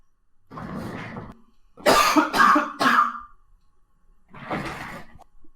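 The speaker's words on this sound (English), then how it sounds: "Trying not to cough into the mic." Three bursts of coughing, close and harsh, with a loud cluster in the middle and quieter coughs before and after.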